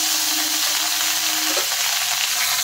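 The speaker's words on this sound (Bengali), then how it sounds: "পেঁয়াজটা দেওয়ার পরে হালকা একটু কষিয়ে নেব।" Onion paste frying in hot oil already seasoned with cinnamon, cloves and cardamom, giving a loud, steady sizzle close up with a brief tonal whine near the start and no talk.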